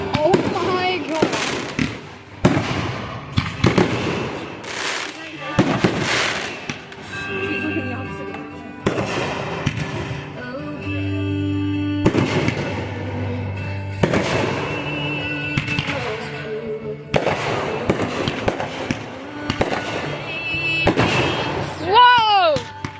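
Flashbangs go off one after another, loud sharp bursts repeating across the stretch, with excited voices shouting and talking between the blasts.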